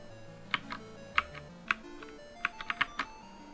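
Bright bonus chimes from a Loxball video game, resembling a car's door-open bing, ring out as about eight sharp, short tones in an uneven run over a soft background melody.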